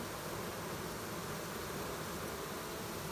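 A honeybee swarm fanning its wings makes a steady, dense drone that fills the whole stretch, a broad continuous buzz like many wings beating at once, with no voices.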